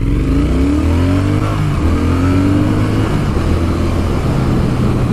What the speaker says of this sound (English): Let's do a little acceleration test on this Thruxton R.